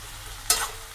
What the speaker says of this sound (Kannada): ಸ್ವಲ್ಪ ಹೊತ್ತು ಈ ಥರ ಫ್ರೈ ಮಾಡ್ಕೊಳ್ಳೋಣ.